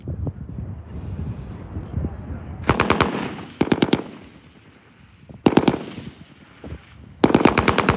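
An M240L machine gun fires on an outdoor shooting range in four loud, sharp bursts of rapid automatic fire, separated by pauses filled with wind noise and faint background rumble.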